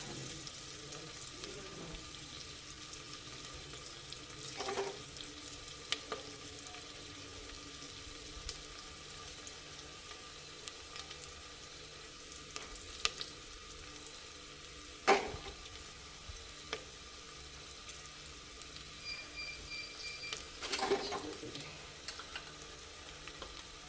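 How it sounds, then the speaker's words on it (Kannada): Sliced onions fry quietly in a pan, giving a faint, steady sizzle with occasional sharp clinks and stirring knocks at close range. "ಈರುಳ್ಳಿ ಫ್ರೈ ಆಗ್ತಿದೆ"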